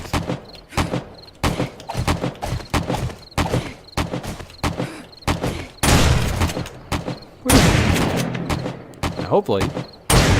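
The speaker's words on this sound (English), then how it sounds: "I'm going to probably try to edit out the insane gun noise" Loud, rapid gunfire in a survival game, sharp bursts firing in quick succession with some heavier blasts, close and harsh, while someone talks briefly between the shots.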